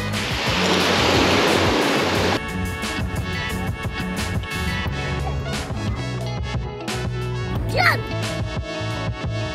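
Ocean surf rushes onto the beach in Antalya, loud and close at first, then continuing as a steady wash beneath other sounds.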